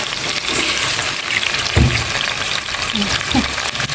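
Pork dropped into a hot pan of sautéed aromatics hisses and crackles in a steady close sizzle, with a few scraping stirs cutting through the frying.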